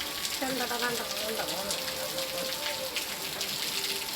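Morning rain patters steadily on surfaces outdoors, a soft continuous hiss with a voice briefly heard over it early on.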